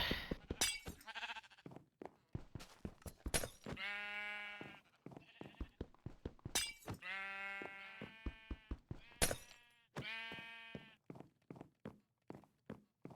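Several video game sheep bleat in short, nasal calls, some overlapping, with soft clicks and steps in between; no one speaks.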